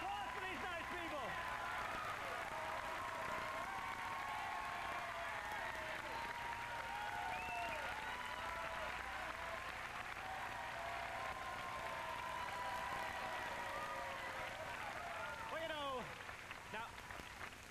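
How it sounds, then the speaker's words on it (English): Applause from a studio audience at a 1993 Nickelodeon children's game show, a continuous wash of clapping mixed with excited cheers and squeals, fairly distant and even throughout. "How about a round of applause for these nice people?"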